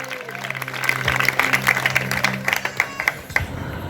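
Christmas church service congregation clapping together, with sharp claps building into a loose rhythmic pattern over a low hum, moderately distant, with some voices mixed in.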